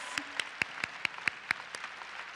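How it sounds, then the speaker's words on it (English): Sparse, distinct claps ring out at a Senior Appreciation Day event in Topeka, Kansas, as the audience applauds families and coaches, about eight separate sharp hand claps spaced irregularly over a quiet hall background. "let's just take a moment to give a round of applause to those folks as well"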